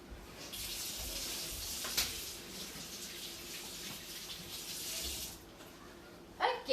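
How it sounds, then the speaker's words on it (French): Hands are rinsed under a running kitchen tap, a steady close water hiss lasting about five seconds before the flow stops, followed by a brief clunk at the end. "Je m'en vais me rincer les mains, je reviens."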